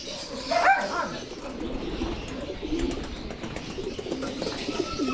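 Pigeons coo and flutter against a steady outdoor background, with a few scattered chirps, moderately close.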